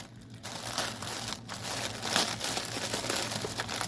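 Plastic packaging bag for a stamped cross-stitch kit being cut open and unwrapped, giving continuous close crinkling and rustling with brief tearing, no talking.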